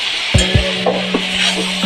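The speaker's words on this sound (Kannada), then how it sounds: "ಚೆನ್ನಾಗಿ ಸಣ್ಣ ಉರಿಲಿ ಫ್ರೈ ಮಾಡ್ಕೋಬೇಕು." Chutney ingredients fry in a pan on low heat, giving a continuous close sizzle broken by several distinct stirring scrapes and knocks of a utensil against the pan, with no voices.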